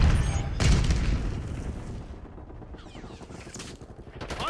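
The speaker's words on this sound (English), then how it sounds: "Enemy grenade. Get flashbang incoming." A flashbang bursts amid heavy rolling gunfire in a Call of Duty match: a dense, booming barrage that swells early and then thins into scattered shots and crackling tails.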